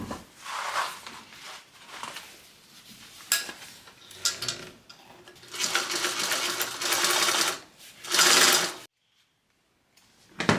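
A sewing machine stitches a 3/8 inch seam allowance on a fabric train case, its motor buzzing in several long close bursts with short stops between, ending in a brief silence.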